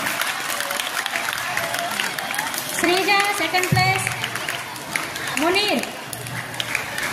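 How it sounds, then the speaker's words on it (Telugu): Audience applause for prize winners at a school Republic Day celebration, clapping in bursts under an announcer's voice calling out places, with crowd chatter around. "గట్టి చప్పట్లు కొట్టాలని చెప్పానుగా"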